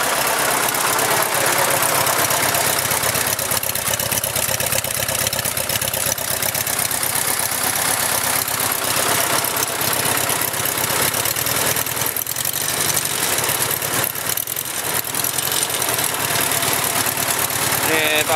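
Old tractor engine, a Farmall Cub or Ford, idling after a cold start, a loud continuous close knocking chug throughout with someone talking over it.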